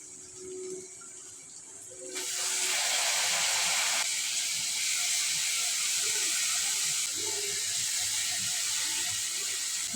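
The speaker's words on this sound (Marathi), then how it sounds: "चांगलं परतून घेऊ म्हणजे गवारीचा कच्चटपणा निघून जातो" Cluster beans stirred into a pan with toor dal, breaking into a loud, steady sizzling hiss that starts abruptly and keeps going close up.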